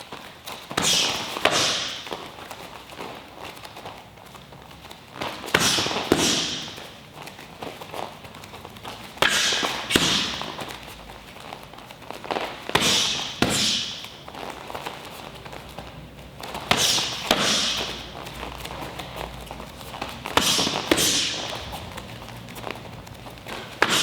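Kickboxing drill of spinning hook kicks and back fists countering teep attacks, with five evenly spaced bursts of swishing motion and thudding impacts over a quiet, shuffling background.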